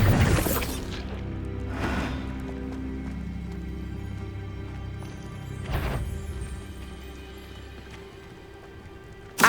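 Bombarda blasting spell in Hogwarts Legacy smashing objects: a few sharp crashing bursts of shattering debris, one at the start, another near two seconds and a strong one near six, over a quiet magical ambience.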